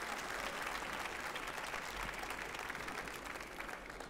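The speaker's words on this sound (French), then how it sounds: "Je vous demanderai d'applaudir Franck Reynaud" An audience welcoming a chef to a cooking demonstration breaks into warm, continuous applause, a dense crowd patter holding steady for several seconds with no one speaking over it.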